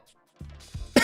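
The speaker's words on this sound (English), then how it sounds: "My cough's been getting worse" A single harsh cough bursts out at the very end, close and loud, after a brief low voiced sound and breath.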